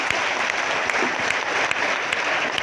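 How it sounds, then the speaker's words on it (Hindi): Loud, dense crowd applause fills a political rally in Bihar as a speaker is welcomed, a steady wall of clapping from many hands that runs throughout without talk. "प्रशांत जी का जोरदार ताली से एक बार स्वागत कीजिए।"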